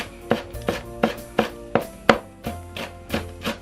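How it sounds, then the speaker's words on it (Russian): A knife finely chops cilantro on a cutting board, about ten quick, evenly spaced thuds close up with no talking. "В соевый соус накрошу мелко кинзу."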